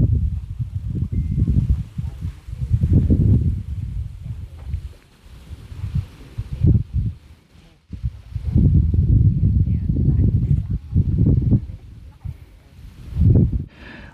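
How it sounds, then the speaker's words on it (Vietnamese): Strong wind sweeps through reed grass on a hillside at the Bình Liêu border area, rising and falling in loud gusty rushes with buffeting noise against the microphone. "vừa mát vừa nghe tiếng xào xạc của cỏ lau, rất thú vị luôn"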